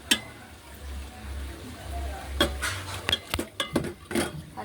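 Mutton and onions stirred in a cooking pot over low heat, with a spoon scraping and clinking against the metal in a quick run of knocks after a quieter stretch of low background rumble.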